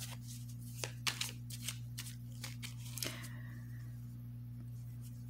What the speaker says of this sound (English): Even though I did a pre-shuffle, I just shuffled.